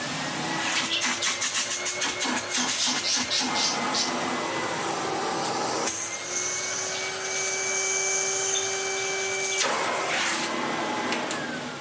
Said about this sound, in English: otherwise they are the same vacuum. They even sound about the same as well.